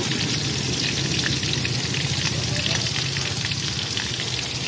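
Chili powder, turmeric and salt being stirred in a frying pan, a dense, loud sizzle with faint scraping of the stirring, steady and near, with no speech.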